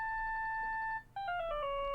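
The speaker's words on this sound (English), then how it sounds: "Who the hell has that kind of ringtone?" A cell phone ringtone from a video game plays as a clear electronic melody: one long held beep, then a descending run of short stepped notes, loud and alone.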